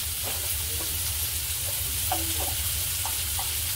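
Finely chopped green chillies frying in hot oil with onions, giving a steady close sizzle throughout with faint stirring clicks and no talking.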